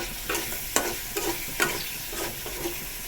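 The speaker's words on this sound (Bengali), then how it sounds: "এখন ছুরি মাছে শুটকিগুলো দিয়ে দেওয়া হচ্ছে" Dried ribbonfish frying in a pan, a steady close sizzle broken by several scraping stirs with a spatula, with no speech.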